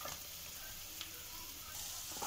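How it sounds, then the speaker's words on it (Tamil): Mushrooms with pepper and capsicum sautéing in a pan for a Tamil-style mushroom pepper fry, giving a steady, soft sizzle throughout with a slight swell near the end and no talking. "இப்போ நல்லா பெப்பர் போட்டுட்டு அப்புறம் நல்லா வதக்கி விடுங்க"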